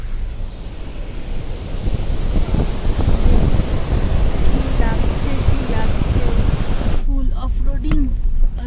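A loud, steady roar of rushing mountain river water near Keylong on the Leh-Manali highway fills the whole stretch, with a person talking over it toward the end.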